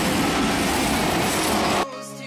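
A class 482 electric locomotive roars past with a dense, steady wash of rail and wheel noise that cuts off abruptly and leaves quieter tonal hum.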